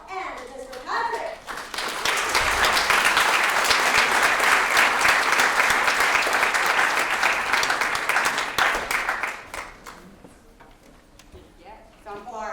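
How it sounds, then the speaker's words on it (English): An audience at a graduation orientation gives a round of applause. Loud, dense clapping swells for about seven seconds and then fades, with talk at the start and end. "if everyone can give a round of applause"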